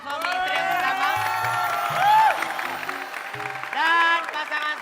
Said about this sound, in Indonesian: Tepuk tangan dong buat pasangan suami istri yang pertama.